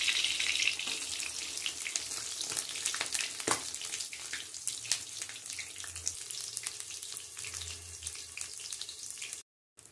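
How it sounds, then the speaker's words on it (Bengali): Eggplant slices fry in hot oil over a low-to-medium gas flame, a continuous bright crackle and sizzle that stays loud and steady throughout, then cuts off abruptly at the end. "এবার আমি বেগুনগুলো এই তেলের মধ্যে ছেড়ে দিচ্ছি।"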